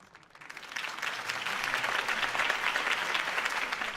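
In Batman: The Telltale Series, a crowd at a political campaign rally applauds, rising quickly from quiet into sustained, dense clapping that holds steady at a moderate distance.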